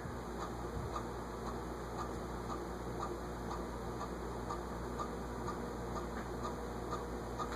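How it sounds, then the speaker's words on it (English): Steady, evenly spaced ticking like a clock from the bearing of an SMC (Shell Manufacturing Company) A52 ceiling fan, running on medium. The faint regular clicks sit over a constant motor hum and whir, with no one talking. "Well, sounds like a clock ticking."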